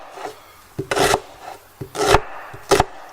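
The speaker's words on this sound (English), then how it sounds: "your onion, the way you cut it, it's up to you" A knife chops an onion on a wooden board in several separate, close strokes, each a sharp thud with a crisp slicing edge, spaced irregularly with quiet between.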